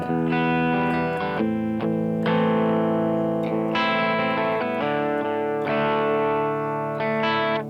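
Electric guitar playing muted arpeggios for a solo, processed with distortion and chorus-like effects, heard as steady, sustained picked notes with brief gaps, no talk.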